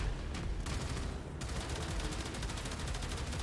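Dome cannon and turret gunfire in a video game rattle out as a rapid, continuous stream of shots, loud and close, with no talk over them.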